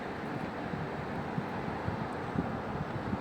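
Wind blowing outdoors beside beehives, a steady broadband rush with soft gusty bumps and no voices.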